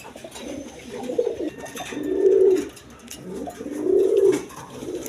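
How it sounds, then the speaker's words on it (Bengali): Rajshahi Giribaz pigeons coo in two long, throaty rolling phrases, close and fairly loud, with faint background noise and no talk. "দেখেন রাজশাহীর গিরিবাস কবুতর বলে।"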